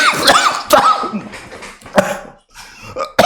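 Several harsh, raspy coughs from one person, loud and close, spaced irregularly with brief pauses between them and a final sharp cough at the end.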